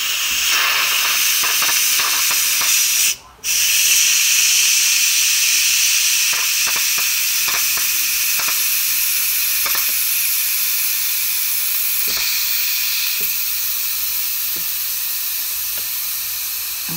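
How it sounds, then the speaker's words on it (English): A Cosori electric pressure cooker's quick release valve vents steam in a loud, continuous close hiss that runs steadily throughout, breaks off for a moment near the start and then resumes, with faint clicks underneath and no talk. "we're going to use the quick release method to open our valve"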